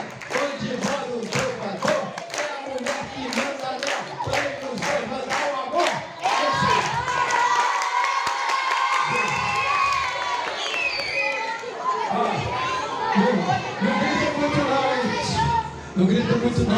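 A group of children shouts and chants together indoors during a creative writing workshop, a dense, continuous wall of overlapping young voices with rhythmic bursts and thumps, loud throughout.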